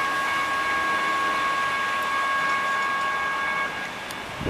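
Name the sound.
Metro train pulling into Kensington station at level crossing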